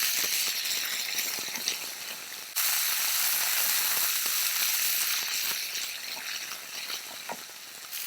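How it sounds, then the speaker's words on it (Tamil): Drumstick leaves (murungai keerai) sautéing in hot, flavoured oil in a pan, a dense continuous sizzle with small crackles and pops that briefly dips and then returns at full strength. "ஸோ இது முருங்கைக்கீரை. ஸோ இதை நல்லா வதக்கிக்கோங்க."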